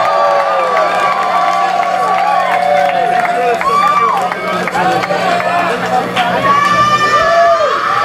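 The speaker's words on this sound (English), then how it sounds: "Please give him a big hand of applause." A live concert audience applauds and cheers after a song by a tribute band, with whoops and shouts over continuous clapping while a person talks over it.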